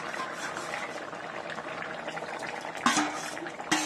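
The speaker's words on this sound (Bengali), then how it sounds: "মাছের ঝালটা ফুটে গেছে" Fish curry bubbling in a pan with potatoes and katla fish: a steady, low simmering burble heard close up, interrupted near the end by two sharper clatters, with no voices.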